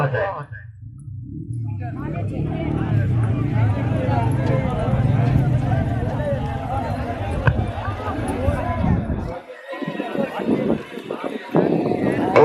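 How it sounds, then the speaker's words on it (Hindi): Horse hooves pound in a fast gallop at a neza bazi tent-pegging event at Ravi, Pakistan, with a loud announcer talking over the drumming hooves and crowd noise. "ख्याली का घोड़ा अंदाज है"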